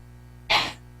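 A single short, sharp sneeze-like burst, close by, rising suddenly and fading within a fraction of a second over a quiet background hum.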